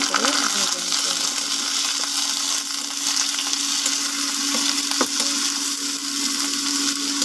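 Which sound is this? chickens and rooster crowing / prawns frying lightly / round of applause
prawns frying lightly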